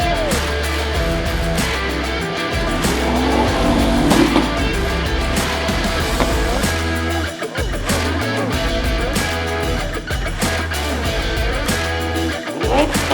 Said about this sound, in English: Listen, what car do we have here? Turbo S.